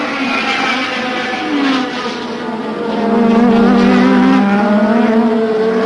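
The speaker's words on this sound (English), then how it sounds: "Piquet powering out of the pits on his fresh tyres" A 1987 Formula 1 car powers out of the pits at Hockenheim, its loud, high engine note rising and shifting through gears, with a second tone swelling nearer toward the end.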